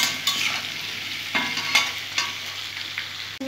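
Potato and papaya pieces fry in oil in a pan, a continuous close sizzle broken by several scraping stirs at irregular intervals, with no talk.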